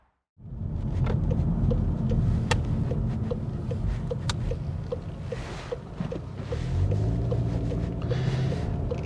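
Volkswagen Golf 7.5 GTI Performance being driven, with a steady engine drone and road rumble heard from inside the car, rising in pitch toward the end, plus a few faint clicks.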